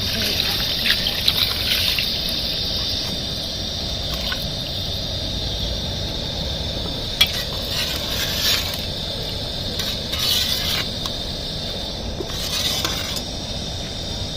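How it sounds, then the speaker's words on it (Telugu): Water poured steadily into a large pot of rice for biryani, a continuous trickling gush with a few brief splashy peaks, close and alone without talking. "13 గ్లాసెస్ ఆఫ్ వాటర్ ఒకేసారి వేసేస్తున్నానండి."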